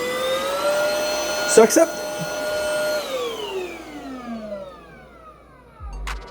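A cordless vacuum cleaner switched to max mode whines loudly with a steady high-pitched tone, then spins down as it is switched off; a brief spoken phrase and some clicks sit near the start.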